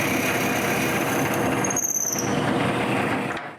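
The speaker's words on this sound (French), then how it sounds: "je retourne au tour à bois pour percer le trou qui sera le pivot de la tête plus tard" A wood lathe drills a hole through a wooden cylinder, giving a steady, loud whirring grind with faint high squeals, running continuously before tapering off at the end.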